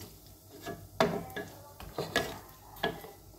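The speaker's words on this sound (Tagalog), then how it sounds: "Haluin ang maigi." Carbonara being stirred in a pan, with a handful of distinct scraping and clinking strokes of a utensil against the pan, irregular and close, over a low background hiss, with no speech.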